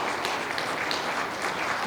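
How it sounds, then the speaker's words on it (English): A county supervisors district forum audience applauds the candidates, a dense, steady wash of clapping from many hands in a hall, sustained without a break. "Shall we give the candidates applause"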